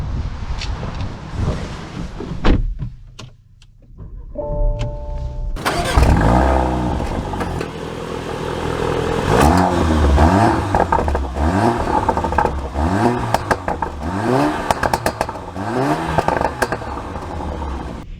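A 2024 Porsche Macan fires up with a quick engine start, then pulls away with repeated rising revs through gear changes, loud and close with wind noise over the microphone, and no talking.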